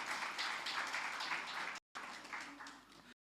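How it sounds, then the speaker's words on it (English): Applause from a gala dinner audience, a steady dense clapping that fills the room, briefly cut off and then resuming for a moment. "Can we give Prof Lavak a nice round of applause?"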